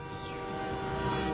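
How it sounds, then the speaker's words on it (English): A train in an X-Men animated series episode gives off a loud, sustained horn-like blast of stacked tones over a continuous rumbling roar, steady and close for the whole moment. "The train."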